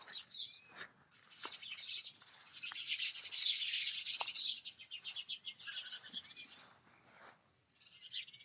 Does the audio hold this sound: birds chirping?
yes